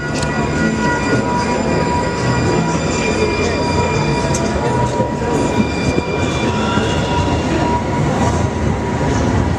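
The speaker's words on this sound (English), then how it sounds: "Train coming. They better get out the way." A train passes close by with a loud, continuous rumble, squealing wheels and clattering cars, holding steady for the whole stretch.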